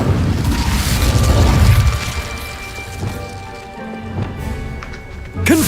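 An Incendio fire spell cast in Hogwarts Legacy near a goblin dig site, a loud whooshing burst of flame that fades into rumbling debris and clatter, with a sharp crack at the end.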